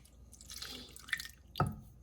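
Milk poured into a no-bake peanut butter chocolate cookie mixture, heard as a few faint, soft liquid drips and splashes, quiet and close, with no talking.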